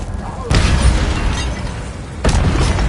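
An Incendio fire spell is cast in a Harry Potter video game: two sudden, loud blasts a couple of seconds apart, each followed by a sustained fiery roar, with a voice in the mix.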